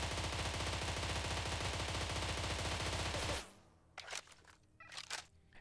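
Rapid automatic fire from a blue barter weapon with a 50-round magazine and no stock in a shooting game, a loud dense burst for about three seconds, then a few quieter clicks and rattles.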